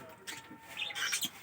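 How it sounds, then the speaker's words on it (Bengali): Budgerigar chirping among caged pet birds, several quick bright chirps and tweets in short bursts, fairly close. "বাজিগার"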